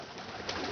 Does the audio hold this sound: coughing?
no